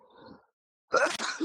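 A person with a cold lets out a single sudden, forceful sneeze, close and loud, after a brief soft breathy sound and a short pause.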